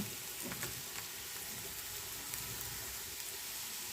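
Mushrooms tipped into onions frying in hot oil, a steady crackling sizzle with a few sharper pops and stirring noises, close and continuous, no voices.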